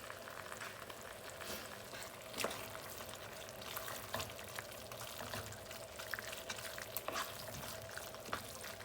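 Two pounds of crawfish tails being stirred in a pan make a quiet, steady sizzle with soft scraping and occasional clicks of the spoon against the pan; no talking.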